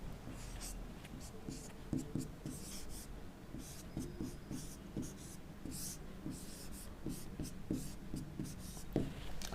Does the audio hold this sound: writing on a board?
yes